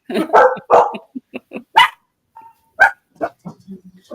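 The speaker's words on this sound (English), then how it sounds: "jumps up on the chair and barks right in my face" A small terrier barks sharply several times at close range, quick yips and bow-wows mixed with a whimpering tone, loud and bursty with short pauses between.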